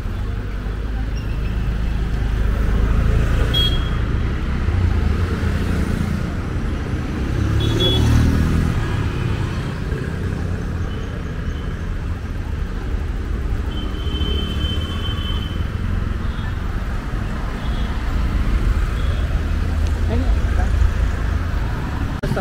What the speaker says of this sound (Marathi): तिथनं ह्या सगळ्या गाड्या उलट्या येतात आणि या बाजूला वळतात